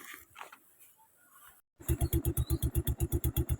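A motorcycle loaded with sacks of vegetables sits quietly for a moment, then its engine chugs in a fast, even pulsing rhythm, loud and near.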